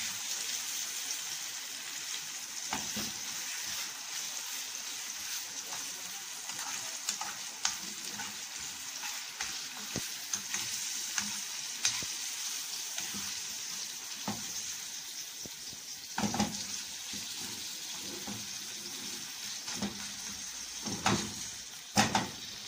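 Chicken liver frying in a pan sizzles continuously and close, with intermittent clicks and scraping stirs punctuating the steady hiss.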